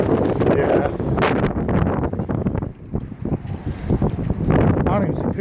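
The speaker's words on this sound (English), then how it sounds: "Very windy." Strong wind buffets the microphone outdoors, a loud, rumbling, gusty roar that persists throughout with bursts of low-frequency thumping, while a voice speaks faintly beneath it.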